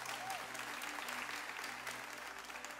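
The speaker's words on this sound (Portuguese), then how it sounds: "vamos aplaudir ele mais uma vez?" Applause from a church audience for Pastor Eric, a steady wash of many hands clapping at moderate distance, sustained evenly throughout without a clear start or finish.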